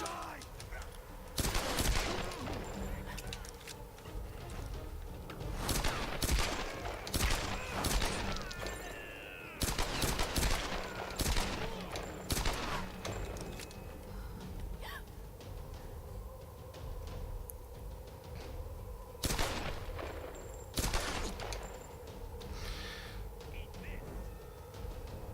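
Repeated gunfire bursts from the 2013 Tomb Raider video game, loud broadband shots and short volleys scattered across the stretch over a steady game-ambience bed, with a voice speaking at points.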